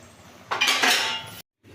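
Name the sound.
plate placed as a lid over the cooking pan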